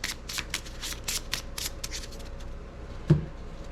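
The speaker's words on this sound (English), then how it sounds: "So we're going to shuffle the deck." A deck of cards is riffle-shuffled during a Skies Above Britain board game, giving quick, crisp fluttering bursts in a steady rhythm, then a soft thump as the cards settle.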